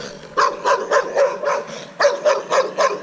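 A dog barks repeatedly behind a gate, close and loud, in two quick bursts of rhythmic, evenly spaced barks with a brief pause between them.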